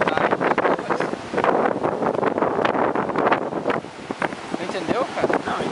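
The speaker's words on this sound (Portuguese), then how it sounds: "a gente só tá vendo vento aqui, cara. Muito vento." Strong wind buffets the microphone outdoors on a cloudy coast around Natal, Brazil, a loud, continuous roaring rush with gusting swells and no pauses, with people nearby.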